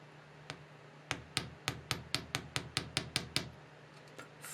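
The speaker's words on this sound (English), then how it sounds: "grab my ear wire and basically hammer from the middle of the turn to kind of the front" A small metal hammer strikes a wire earring ear wire in a steady run of about a dozen sharp, evenly spaced taps, close and fairly quiet, with a lone tap just before and a faint one after.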